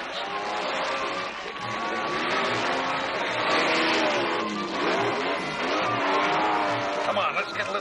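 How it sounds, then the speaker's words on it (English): Engines of cartoon race cars rev and roar at the start of a race, a continuous loud revving with rising pitch sweeps and tire squeals, heard under voices talking. "Bravo, start your engines."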